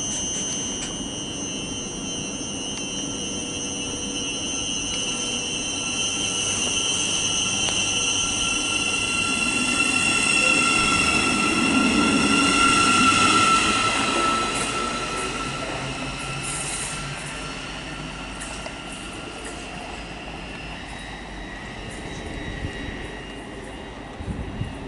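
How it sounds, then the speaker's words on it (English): A Thameslink train pulls out of St Albans City station, its rumble and wheel noise swelling to a loud peak midway and then fading, with faint electrical whine and tonal hums over steady platform ambience. "departing now is the 1057 Thameslink service from Bedford to Brighton."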